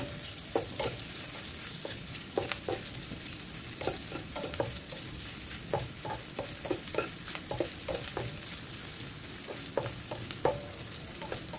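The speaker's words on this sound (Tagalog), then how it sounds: "Ayan, igisa-gisa lang natin." Ingredients being sautéed in a frying pan for a Filipino dish make a steady, close sizzle, with repeated scrapes and taps of a utensil stirring against the pan and no voices.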